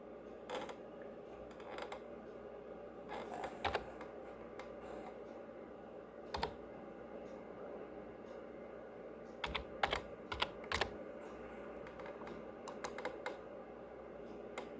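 Computer keyboard keys tapped to enter a password and captcha on a login page, irregular bursts of quick clicks with pauses between, close and clear in a quiet room.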